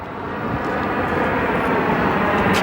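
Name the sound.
Boeing 737-700 arriving from Santa Ana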